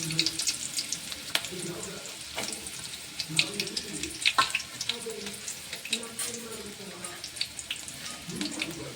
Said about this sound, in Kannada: ಇವಾಗ ಎಣ್ಣೆ ಒಳಗೆ ಈರುಳ್ಳಿನ ಚೆನ್ನಾಗಿ ಫ್ರೈ ಮಾಡ್ಕೋಬೇಕ್ರಿ